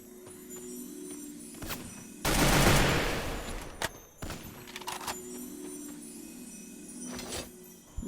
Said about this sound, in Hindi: यहाँ पर पेटी लूटते हुए मुझे एक और बंदा गोली मारता है जो घर के अंदर कैंपिंग कर रहा होता है।